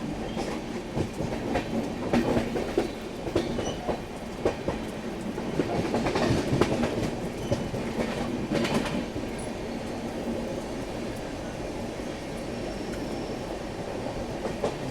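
Howrah-bound Rajdhani express train picking up speed through foggy conditions, a steady loud rumble of wagons on rails with rhythmic clickety-clack wheel beats and occasional squeals, continuous and close throughout.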